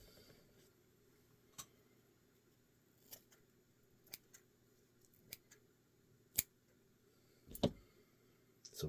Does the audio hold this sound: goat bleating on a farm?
no